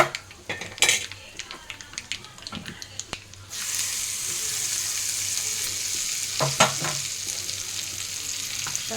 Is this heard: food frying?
yes